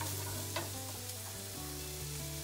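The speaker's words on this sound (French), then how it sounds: "On va faire tomber notre oignon." Onion softens gently in a pan for moules au gratin, giving a low, steady sizzle with a soft stir or two and no voices.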